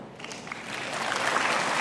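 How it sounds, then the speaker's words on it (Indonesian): A church congregation claps during a sermon, a brief burst of scattered applause that swells slightly over under two seconds, fairly faint. "saya minta aja ya tepuk tangan ya, biar ada hiburan sedikit ya"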